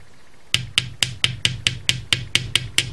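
Steady metallic hammer strikes on a wire coil for earrings, about a dozen evenly spaced ringing taps, close and loud with a sharp bright edge.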